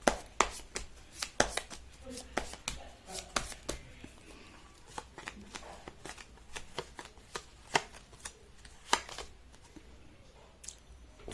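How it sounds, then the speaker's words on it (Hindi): Tarot cards are shuffled by hand in a quiet room, a series of sharp riffling snaps and soft slides in irregular bursts, close and fairly faint. "मैं कर लेती हूँ कार्ड की शफलिंग।"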